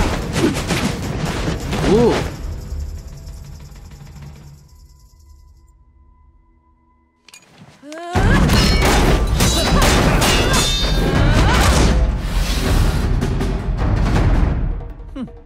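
Gunfire from guns on a character's boots in a RWBY animated fight: dense, loud bursts of rapid shots and crashes, a brief quieter lull, then renewed heavy barrages with a short exclamation from a viewer.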